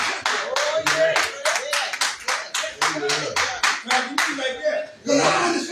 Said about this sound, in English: Well, I'm clapping.